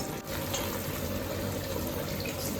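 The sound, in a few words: pouring water into a pot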